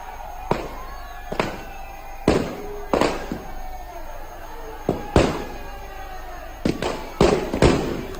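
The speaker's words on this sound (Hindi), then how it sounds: "पटाखों की गूंज के साथ" Firecrackers and fireworks go off at a crowded Dussehra Ravana effigy burning, with about nine sharp, loud bangs at irregular intervals, each followed by a short crackling decay.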